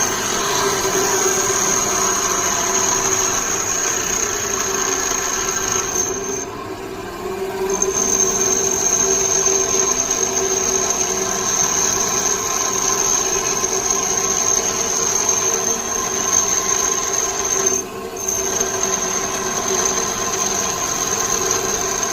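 A bench grinder shaping a lathe under-cutting tool runs as a loud, steady whine with a constant hum. The tone dips briefly twice as the tool is lifted from the wheel.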